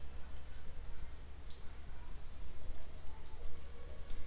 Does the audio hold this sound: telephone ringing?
no